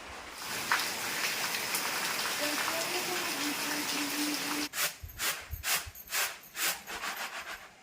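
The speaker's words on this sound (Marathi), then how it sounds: "पाऊस पण आला त्याच्यात" Steady hissing rain for several seconds, then gusty, uneven bursts of wind-driven rustling noise take over.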